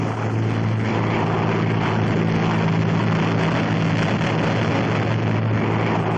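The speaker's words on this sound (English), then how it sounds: "I'm the guy in that P-38." A P-38 fighter plane's engines drone steadily in flight, a loud continuous propeller roar with wind noise and no break throughout.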